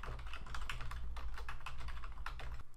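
Rapid typing on a computer keyboard while entering an email address into a web form, a steady run of close, crisp key clicks at an even pace with no voice over it.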